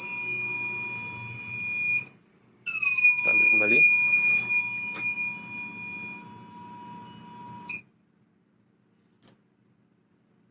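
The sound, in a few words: waste collection machine alarm buzzing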